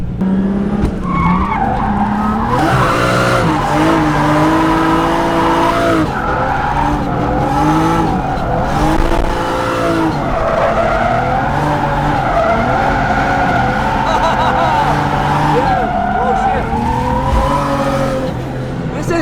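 A Nissan Skyline drifts with its tires screeching loudly and nonstop, wavering in pitch as the car slides, over a constant roaring engine.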